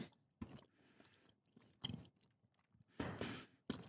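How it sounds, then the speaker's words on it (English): Gum being chewed right against a microphone, with wet, squelchy chomps arriving in uneven bursts separated by quiet pauses. "going to chew that gum for a little while."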